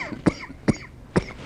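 Three dry coughs from one person, spaced about half a second apart, close and fairly quiet, with no talk in between, heard during a lecture.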